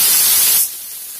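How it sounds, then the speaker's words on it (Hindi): Finely chopped onion drops into hot oil in a home kitchen and sizzles loudly with a bright, steady hiss. After about half a second the sound eases into a quieter, continuous fizzle. "तेल गर्म हो गया है, एक बारीक कटा हुआ हम प्याज डालेंगे।"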